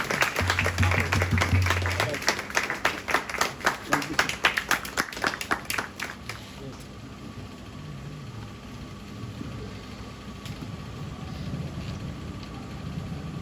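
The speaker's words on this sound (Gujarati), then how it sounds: "આપણે એમની સેવાની કદર કરતાં એક જોરદાર તાળી પાડીશું." A church congregation applauds loudly for several seconds, dense clapping that fades out around the middle, followed by quieter room ambience with a faint low hum.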